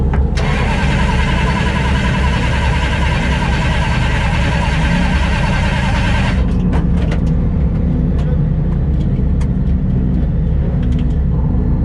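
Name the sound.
car engine cranking but failing to start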